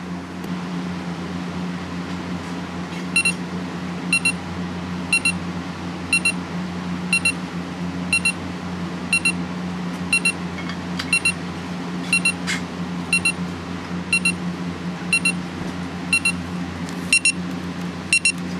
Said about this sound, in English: let me set an alarm correctly and we'll have a listen to that